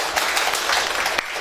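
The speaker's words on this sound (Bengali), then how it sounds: "হাততালি দেন সবাই" A poetry gathering audience claps together in dense, steady applause that holds for about a second and a half with a brief sharp accent near the end, filling the room at moderate loudness.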